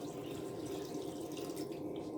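Dirty water is poured out of a gold pan while panning black sand from a river, a steady rushing, splashing flow that lasts throughout with no talk.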